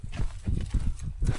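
Horse hooves clip-clop in a steady walking rhythm during a horseback ride on a mountain ranch, several close, distinct hoof strikes over about a second and a half.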